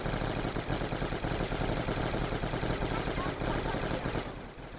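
Rapid automatic gunfire in the Black Ops 2 Zombies game on the Buried map, a continuous loud stream of shots that runs almost the whole time and then drops off at the end.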